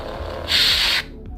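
A Dark Empress (Darkside Rey) lightsaber sound font on a Centurion battle staff shuts off with a loud, bright, hissing whoosh lasting about half a second, then cuts abruptly into near silence.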